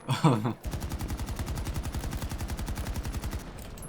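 Automatic rifle, an AK, firing in a video game: a brief loud burst up front, a short gap, then a steady rapid rhythmic string of shots lasting about three seconds, close and punchy.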